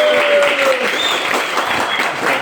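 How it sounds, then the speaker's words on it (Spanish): An audience applauds to welcome Pastor Walter onto a talk show, a dense steady burst of clapping close and loud throughout, with voices under it. "Un aplauso a todos."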